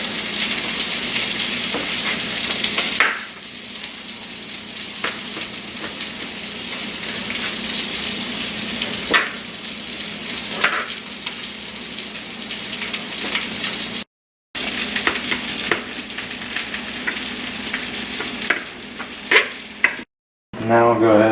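Venison chunks fry in a hot skillet with a loud, steady close sizzle and crackle, broken by occasional scraping stirs and two brief dropouts.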